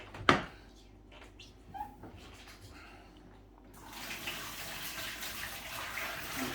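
Sterilising fluid pours out of a container, a gushing stream of liquid that starts partway through after a few knocks and handling sounds, running steadily to the end.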